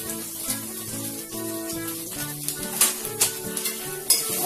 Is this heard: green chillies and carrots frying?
yes